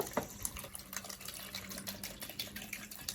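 Ice water pours steadily into a container in a kitchen while a rotisserie jerk chicken and breadfruit punch are prepared, a continuous close trickle with no talk.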